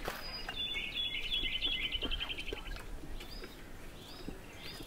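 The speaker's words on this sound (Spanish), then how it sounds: "aquí solo se escucha naturaleza," Small birds chirp and twitter in quick high bursts over a soft outdoor background, fairly faint and from a short distance.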